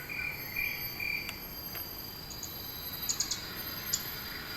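Field cricket chirping played back from a nature trail exhibit button on Imbiah Trail in Sentosa, steady high trills with a few brief pulsed chirps over a quiet outdoor background.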